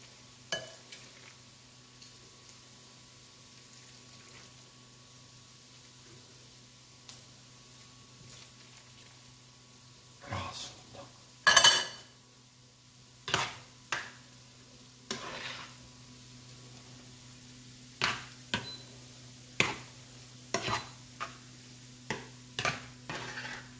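Halušky with bryndza cheese being stirred in a pot: sparse, sharp clinks and scrapes of a utensil against the pot, mostly in the second half, over a faint steady hum.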